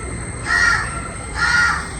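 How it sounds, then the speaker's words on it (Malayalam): A crow caws twice, loud and nearby, the two harsh calls about a second apart over a low background hum, with no speech. "ഈ കാക്ക എന്നെ വല്ലാണ്ട് ശല്യം ചെയ്യുന്നുണ്ട്"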